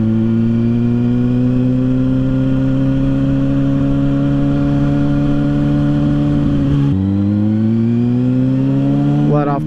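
A Kawasaki Ninja ZX6R's engine drones loud and close, holding steady revs, then dips sharply as the gear shifts and climbs again into a rising whine.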